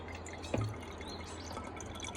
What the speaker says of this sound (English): And of course I'm dripping water everywhere